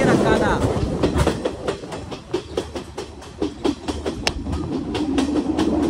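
A train rolls along the rails in Sri Lanka on the Ella line, wheels clattering in a quick, rhythmic clickety-clack that sounds loud and close, with a steady rumble underneath.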